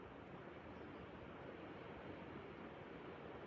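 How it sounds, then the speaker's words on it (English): Heavy rain pours outside in a dense, steady hiss and rush that stays constant and fairly faint throughout, with no voices. "you're gonna hear it is absolutely pouring. Hard rain."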